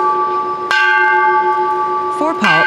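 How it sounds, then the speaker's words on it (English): A bell rung at a ceremony marking the UN anniversary, sharp metallic strikes with a long humming ring that sustains between hits, a second strike near the end, and a voice over the tail. "FOWPAL also hosted a bell-ringing ceremony, where Dr. Hong"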